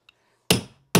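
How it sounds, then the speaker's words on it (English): A hammer striking a carpet stair tucker while a stair runner is fitted, two sharp, loud, close impacts about half a second apart after a tiny faint tick. "and our hammer"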